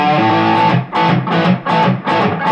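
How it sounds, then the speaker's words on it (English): A crunchy, distorted electric guitar plays a song riff, repeating a short chugging phrase in bursts with brief gaps, loud and close with no talking. "take a look at how to play the easier guitar riff that is distorted."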